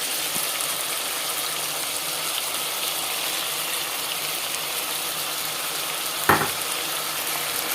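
Broiler chicken fries in its own released oil as ginger-chili paste goes in, giving a steady loud sizzle throughout. A single brief clatter sounds near the end.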